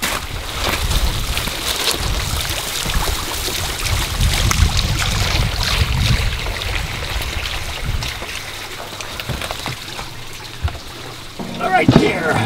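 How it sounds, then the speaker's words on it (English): Steady rushing water from a natural waterfall churns and splashes close by, a continuous broadband roar with a voice speaking briefly over it. "since we have a natural waterfall here"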